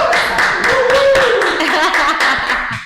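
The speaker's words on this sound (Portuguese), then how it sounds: "uma salva de palmas." A small group on a podcast gives a round of applause, close, brisk hand clapping with a voice speaking briefly over it, tapering off at the end.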